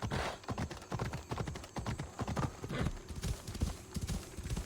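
Horse hooves clip-clop in Assassin's Creed Odyssey, a quick, steady run of close, crisp hoof beats that goes on throughout, with a faint voice speaking briefly underneath.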